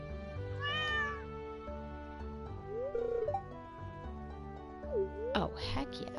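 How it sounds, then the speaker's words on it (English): A cat meows in a video game several times, in a high, wavering tone with pauses between calls, over background game music and a person talking. "Oh, heck yeah, we're gonna adopt this cat."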